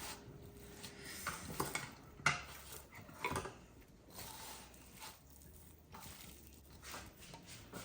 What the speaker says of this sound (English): This is how much I want to add, and I'm gonna give it a mix.